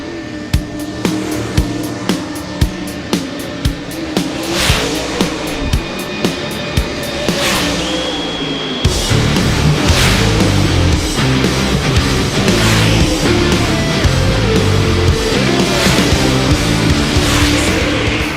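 Super late model race cars roaring through hot laps on a dirt track at Bedford Speedway, a loud engine passing in rhythmic pulses before a dense, sustained roar of several cars at once.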